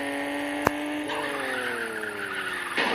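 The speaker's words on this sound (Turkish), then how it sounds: "Dimdirek giderken el freni çekeceğim ne olacak?" Car skidding in a handbrake drift, a loud tire squeal sliding downward in pitch across the clip, with a sharp click near the start and a burst of noise at the end.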